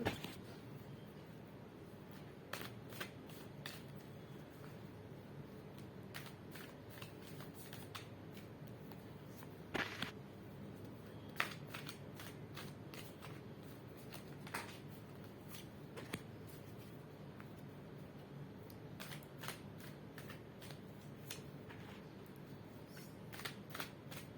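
Tarot cards shuffled for a Bengali love reading about mutual feelings between partners: repeated crisp riffles and snaps of the deck, close and fairly quiet, continuing steadily with no talk.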